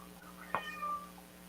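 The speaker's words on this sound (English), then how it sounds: "You hear my cat?" A house cat lets out one short meow partway through, fairly close and clear above a steady low background hum.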